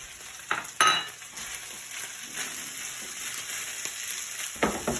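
Scrambled eggs frying in a pan for fried rice, a moderate steady sizzle punctuated by a few sharp bursts as they hit the hot surface, with no talking.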